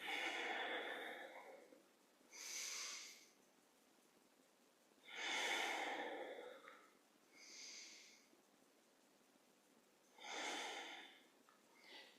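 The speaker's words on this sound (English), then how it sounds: "Breathing in, breathing out." Slow, deep breaths in and out during a qigong session, five soft airy swells spaced a couple of seconds apart, close and quiet with no talking.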